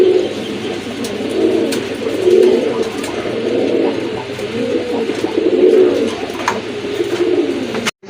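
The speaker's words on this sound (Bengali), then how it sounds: "জোড়াটা খুবই ভালো মানের এক জোড়া কবুতর, খুবই অ্যাক্টিভ রয়েছে এখন পর্যন্ত আলহামদুলিল্লাহ।" A pair of fancy domestic pigeons coos in low, rolling swells that rise and fall continuously at close range, with faint higher bird chirps scattered above.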